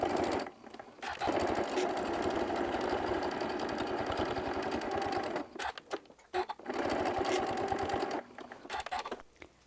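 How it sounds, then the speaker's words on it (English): A sewing machine stitching down both sides of fabric for a tissue holder, running in close, loud bursts with two short pauses between runs. "I want to go back to the sewing machine, and I'm going to stitch down both sides here"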